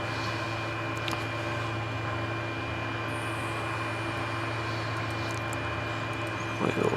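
Aircraft engine in Microsoft Flight Simulator 2020 idles on a little dirt strip before takeoff, a steady droning hum with a constant low tone, unbroken throughout.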